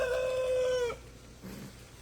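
A young rooster on a small woodland farm gives a single short, thin crow lasting under a second, fairly close and clear, followed by a faint low cluck.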